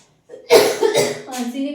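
A single sharp cough bursts out close by, followed by a couple of rougher throaty coughs.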